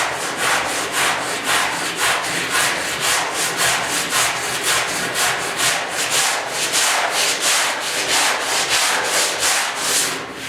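Steady rhythmic rubbing of sandpaper by hand on the wood bed of a 1972 Ford 4x4 short box pickup, close and loud, with even back-and-forth strokes continuing throughout.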